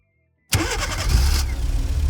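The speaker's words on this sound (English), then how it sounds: "And here you go, the car is running." After half a second of silence, a Lexus NX engine cranks via remote start and catches, then settles into a steady idle.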